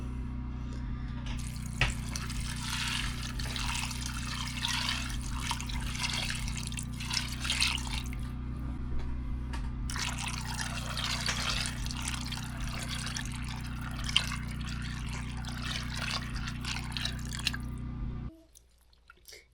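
Water runs from a tap into a pot of dried beans being set to soak, a steady splashing pour with fine dripping and bubbling over a constant low hum, stopping abruptly near the end.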